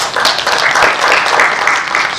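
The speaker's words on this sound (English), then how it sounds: "A hand clap to our partners." Audience applause at a youth employment clock launch event in Kigali, Rwanda: dense, loud clapping from a crowd, sustained evenly throughout without voices.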